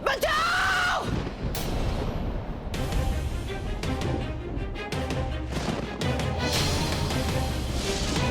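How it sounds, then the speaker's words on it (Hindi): Someone shouts and yells loudly from inside a closed room in a house, with harsh, strained bursts and crashing noise that stay loud throughout. "वो चिल्ला क्यों रहा है?"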